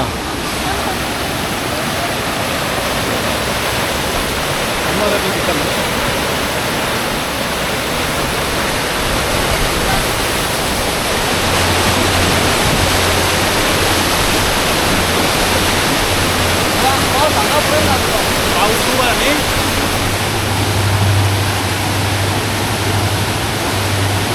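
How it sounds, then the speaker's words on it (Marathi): Water roars steadily and loudly, a dense rushing wash of Dudhsagar Waterfall that fills the whole stretch, with a low hum joining partway. "पाण्याचा फ्लो तरी बघा"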